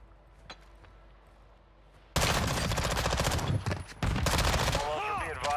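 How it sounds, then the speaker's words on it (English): Enemy gunfire in Call of Duty DMZ starts after a quiet stretch with faint voices, then erupts into loud, sustained rapid shooting with close, dense bursts and a brief pause before resuming. "You hear him shooting"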